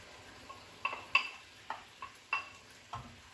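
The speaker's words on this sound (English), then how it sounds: "We're going to give this a minute stir." A spoon stirring Greek beef stifado with cinnamon, allspice, bay leaves and chopped tomatoes in a pot, a handful of soft scraping clinks spaced irregularly over a faint sizzle, close and fairly quiet.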